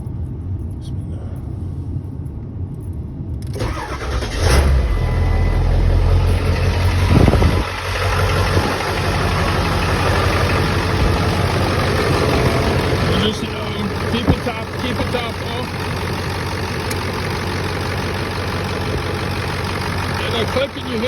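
A Ford 7.3 Powerstroke diesel truck cranks over and fires up, then settles into a loud, steady, rumbling diesel idle close by, with a click from the fan clutch heard along the way.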